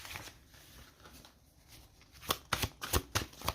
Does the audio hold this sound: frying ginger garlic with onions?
no